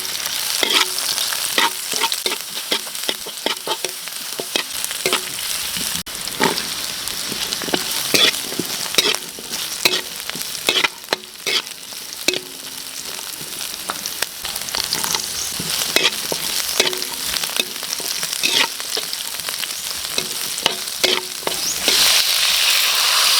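Lapu-lapu fish coated in flour sizzles steadily in hot oil, with continuous loud frying crackle and intermittent stirring or turning clatter, close and without talk.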